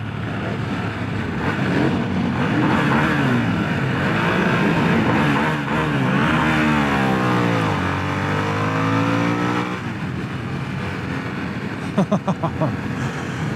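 A 2025 Harley-Davidson Sportster S engine revs hard in repeated rising and falling bursts at close range, loud and throaty. A few sharp pops come near the end.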